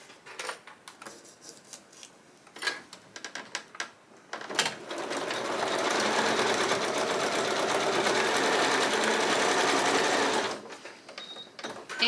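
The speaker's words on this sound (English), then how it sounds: "we're going to sew on that solid line" A sewing machine stitching pieced fabric runs in one steady, fast, continuous burst for several seconds, close and loud, with quiet handling clicks and rustles before and after.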